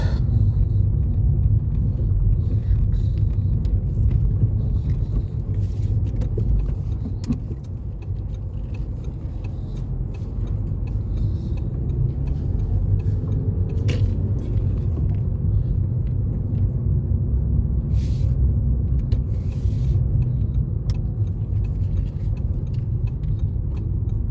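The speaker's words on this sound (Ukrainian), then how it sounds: "Мусимо заїхати з другої сторони і там припаркувати автомобіль" A car drives a commute along a badly potholed street in Ukraine. A constant heavy low rumble from inside the cabin runs throughout, with scattered small clanks and jingles as the car jolts over the holes.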